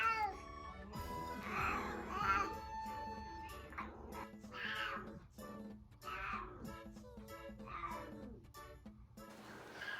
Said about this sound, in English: She won't stop meowing till we give her attention.